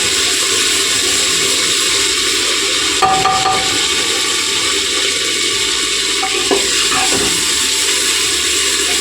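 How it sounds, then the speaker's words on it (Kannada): Sprouted gram curry base frying in a pan, a loud, steady, close hiss that runs the whole time with a few faint clinks and no talking. "ಇದು ಹಸಿ ವಾಸನೆ ಫ್ರೈ ಮಾಡ್ಕೊತಾ ಇದ್ದೀನಿ"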